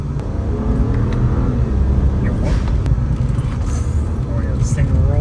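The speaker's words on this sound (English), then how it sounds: "We're gonna go take it around the back road here and see how well this thing handles." A cheap sports car under $10K driving along a back road, its engine a steady loud rumbling drone with faint whine and tire noise, heard from inside the cabin.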